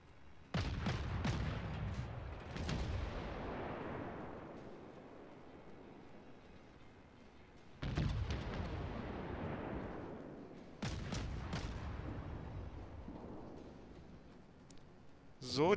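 Naval artillery fire from the battleship Scharnhorst in World of Warships, with loud salvos of booming gunfire in clusters that roll away into long decaying rumbles, then two more heavy volleys later on.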